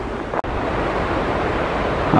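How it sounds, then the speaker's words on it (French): Waterfall cascading near the Glacier Blanc below Pelvoux in the Hautes-Alpes, a steady broadband roar of falling water, continuous and close, with a brief dropout early on. "Ah, la cascade qui est sur la gauche."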